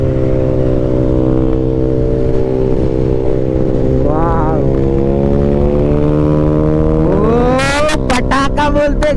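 A modified Bajaj Pulsar N160 motorcycle with a loud aftermarket exhaust rumbles steadily while being ridden, its pitch climbing as it revs up near the end, with sharp popping crackles breaking out at the close.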